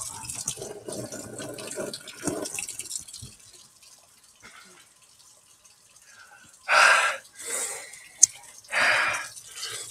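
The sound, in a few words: water running from a tap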